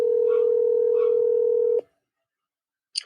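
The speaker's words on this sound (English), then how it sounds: "Let's make a phone call right quick." Telephone keypad dialing a number for a live call-in during a Christmas podcast, a steady tone running then cutting off abruptly, followed by silence and a faint brief sound at the end.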